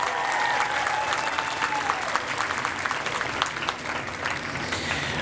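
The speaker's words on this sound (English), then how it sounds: "How about a round of applause for your parents and everyone who has helped you achieve?" A crowd gives sustained applause at a spring college commencement ceremony. The clapping is dense and steady, fading slightly toward the end, with a voice briefly heard over it at the start.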